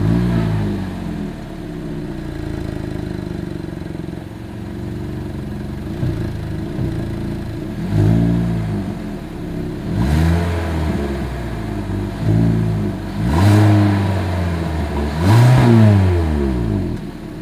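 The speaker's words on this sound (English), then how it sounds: "Here is that exhaust clip." Exhaust of a 2023 Hyundai Elantra idles, then the engine is blipped about four times with rising, rasping revs that swell and fall back to a low burble between throttle stabs.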